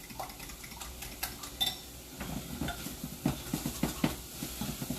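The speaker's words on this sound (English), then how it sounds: "Give this another stir." Quiche mixture being stirred in a bowl, giving a steady run of soft scraping and tapping strokes that grow quicker and more regular partway through, close up with no talk.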